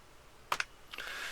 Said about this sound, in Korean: 여기다가 직접 타이핑을 쓰실 수가 있습니다